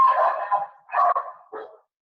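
Dogs barking indoors: three short, fairly loud bark-like bursts in quick succession, the last one softer, with no talk over them and silence after.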